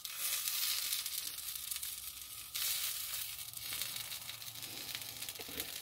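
Black bean burgers sizzle in a frying pan with a steady close hiss and fine crackle, broken once by a brief shift as if the pan or patty is disturbed, with no talking.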